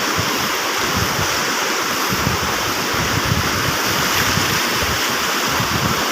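A strong river current rushes steadily past, a dense, unbroken roar of churning water that stays loud and even throughout with no voices.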